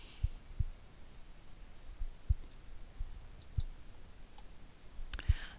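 A computer mouse clicks sharply and sparsely, about half a dozen separate clicks at uneven intervals, close up in an otherwise quiet room.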